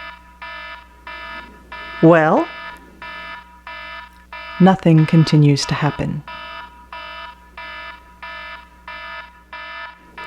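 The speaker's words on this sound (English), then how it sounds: "The alarm continues to sound." A steady alarm sounds in evenly spaced repeating beeps throughout, loud and unbroken, while people talk briefly over it in two short bursts.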